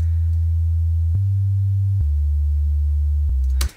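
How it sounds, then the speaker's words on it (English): Pure sine-wave sub bass from the Serum synth plays as a loud, steady low tone that steps to a new pitch three times, then stops abruptly with a short click near the end. "the easiest way to make sub bass or a pure sub bass is just to use a sine wave"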